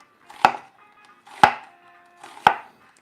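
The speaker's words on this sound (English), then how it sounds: "I do kind of cut on an angle because that's how our onion is shaped" A knife slices through an onion at an angle in a home kitchen, making three crisp, evenly spaced chops about a second apart, each a sharp close thump against the board with no talking.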